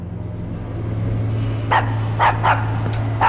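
A small dog named Toto barks four short sharp yaps at irregular intervals, close and clear above a steady low hum.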